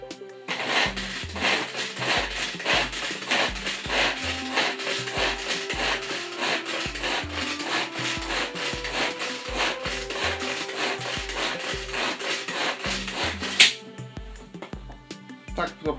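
A knife chops olive filling finely for a pork roulade, making quick, regular taps on a board in a steady rhythm over light background music, with a louder knock near the end.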